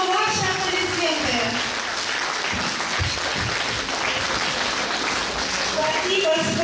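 Concert hall audience applauding a performer, a continuous dense wash of clapping with a host's voice speaking over it at times, steady and fairly loud throughout.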